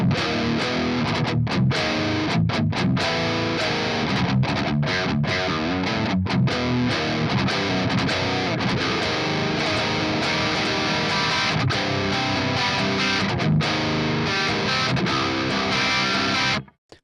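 Heavily distorted electric guitar through an ICONA amp sim modelled on a JCM 800 churns out dense, loud chugging riffs with tight rhythmic stops, playing continuously before cutting off abruptly at the end.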